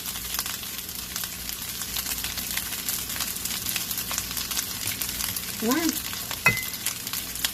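Pineapple stir-fried in a pan for pineapple fried rice, a steady close sizzle with scraping stirs, a few brief vocal sounds near the end.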